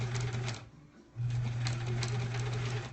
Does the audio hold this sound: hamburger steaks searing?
no